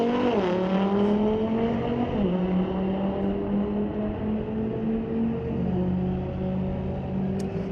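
An Audi drag car fitted with a rear parachute, racing at a street-legal drag strip night, roars loud and continuous as its engine climbs through stepped gear changes over about eight seconds.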